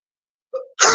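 A single short sneeze from a streamer during a gaming session: a brief nasal inhale-like burst followed by a loud, sharp explosive release, close to the microphone.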